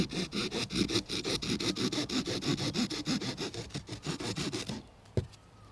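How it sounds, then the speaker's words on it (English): A small saw cuts through an elderberry stalk just below a segment knuckle: about twenty quick, even back-and-forth rasping strokes, close and steady, then a sharp snap as the cut finishes and the sound falls quiet. "I want to cut right underneath this knuckle right here"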